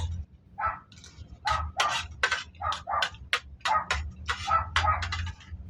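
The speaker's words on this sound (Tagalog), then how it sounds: "Ingay ng mga aso sa labas." Dogs outdoors bark repeatedly in short, uneven yaps and yelps, several overlapping at moderate distance, with a low hum underneath and no speech.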